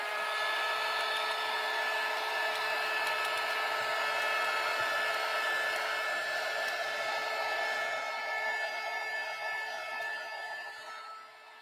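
A hair dryer blowing on a chalk-painted craft project, a loud steady whining whoosh close to the mic that holds level and then fades slightly near the end.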